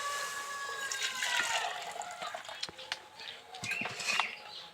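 Hot water being scooped out of a pot while cooking vapa puli pitha, brief splashes, drips and clinks of a utensil against the pot, faint and close, with light background noise.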